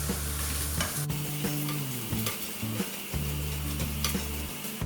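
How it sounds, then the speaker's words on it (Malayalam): Chilli powder and pepper powder fry in a pan for mutton roast with a soft continuous sizzle under repeated rhythmic stirring scrapes and a low steady hum, no speech. "ഒരു 1/2 സ്പൂണൂടെ ചില്ലി പൗഡർ, 1 ടേബിൾ സ്പൂൺ കുരുമുളക് പൊടി ചേർത്ത് നന്നായിട്ടൊന്ന് ചൂടാക്കിയെടുക്കാം."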